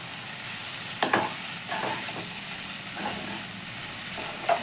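Rice paste being stirred into a frying thor bori dish of banana stem and lentil dumplings: a continuous soft sizzle broken by several scraping stirring strokes, with no voices.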